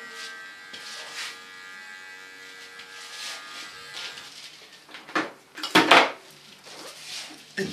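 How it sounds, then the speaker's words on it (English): A small electric hair clipper trimming a neckline gives a steady thin buzzing hum, interrupted by louder handling clicks and rustles near the end, with no speech. "The small clipper, I clean the neckline a bit."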